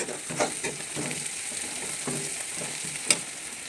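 Onions fry toward golden brown for upma, giving a close, steady sizzle with occasional stirring scrapes and one sharp clink near the end. No voices.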